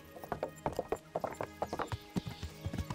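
Horse hooves clip-clop in irregular quick steps in the medieval game Kingdom Come: Deliverance, with a brief whinny and some mechanical clicking and ratcheting mixed in, close and moderately loud, no talking.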